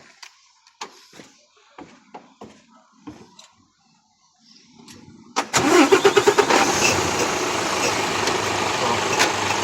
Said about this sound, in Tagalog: So next step, start natin yung makina.